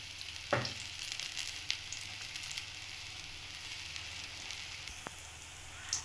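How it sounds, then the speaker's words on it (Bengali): Helencha greens dipped in gram-flour batter sizzle in hot oil over medium heat, a soft, steady frying crackle with a couple of sharp pops and light clinks of utensils. "অয়েলের মধ্যে ছেড়ে দিচ্ছি।"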